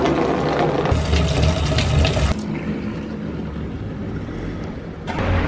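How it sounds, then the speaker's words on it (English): Fresh water gushes steadily from a tap while filling up at a van-life camp by a kiteboarding lagoon, a loud continuous rush that drops in intensity partway through, then swells again near the end. "You get some water."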